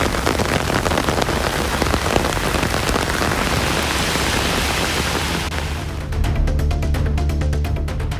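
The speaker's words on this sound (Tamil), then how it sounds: "கிருஷ்ணகிரி, வேப்பனப்பள்ளி, பர்கூர், காவேரிப்பட்டினம் உள்ளிட்ட பகுதிகளில் பலத்த மழை பெய்ததால் சாலைகளில் வெள்ள நீர் பெருக்கெடுத்து ஓடியது." Heavy rain pours steadily in Krishnagiri district, a dense, continuous hiss of downpour striking surfaces up close, loud and unbroken throughout with no voices.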